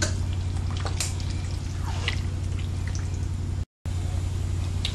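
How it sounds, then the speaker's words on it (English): Spaghetti with herbs and spices being stirred in a pot gives a continuous wet, squishy churning with small drips and scrapes, fairly loud and close, with one brief dropout near the end. "Okay, you continue to stir until it's all mixed in."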